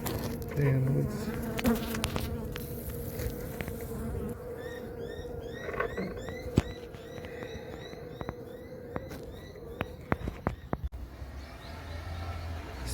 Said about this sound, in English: we now see some comb and some bees